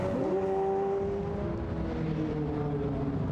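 GT1 race cars, including BMW V12s and McLarens, scream past at high revs around Goodwood, their pitch sliding downward as they pass, loud and continuous.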